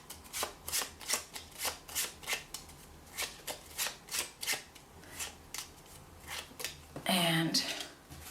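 A man shuffles a small set of playing cards, the four kings, in a run of quick rhythmic riffling sweeps up close, ending with one denser rustle.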